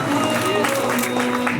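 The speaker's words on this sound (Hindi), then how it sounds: "तालियां बंद नहीं होनी चाहिए दोस्तों" Audience applause at a political campaign event in Mumbai, a dense steady wash of clapping from a large crowd, continuous and fairly loud throughout with a faint murmur of voices underneath.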